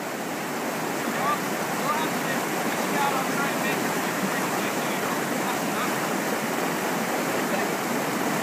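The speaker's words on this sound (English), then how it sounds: "There's probably rocks there. That's probably why that's bubbling." River water rushes and bubbles over rocks near Missoula, a steady, loud, dense wash with no pauses from start to end.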